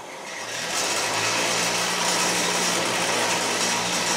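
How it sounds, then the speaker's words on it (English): A grinder shapes a knife made from a lawnmower blade. A loud, steady abrasive hiss and whine ramps up within the first half second and then holds evenly, with no talk. "But we'll do this with a grinder this time."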